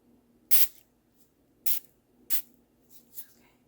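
Four quick hissing bursts from a spray bottle, close and crisp, spaced unevenly over a few seconds in an otherwise quiet setting.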